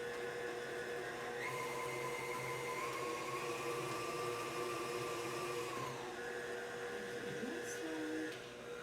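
An electric mixer beats eggs into cake batter one at a time, giving a continuous whirring motor whine that shifts in pitch as the beaters work, close and steady.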